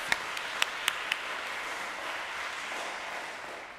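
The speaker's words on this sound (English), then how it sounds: "let's give a big round of applause to everyone, students, teachers, coordinators, and volunteers" Audience applause at a cultural arts festival for students, teachers, coordinators and volunteers, a soft even wash of many hands clapping from a distance with a few close sharp claps early on.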